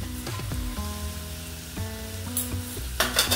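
Onions sizzle in a pan with curry leaves and turmeric, a steady, close frying hiss while a spoon stirs and scrapes at intervals, with no talk.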